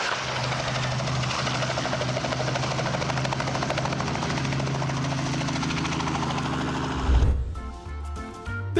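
A helicopter flies overhead with a steady, dense rotor and engine roar that holds for several seconds, then breaks into rougher, uneven thumping and clatter near the end.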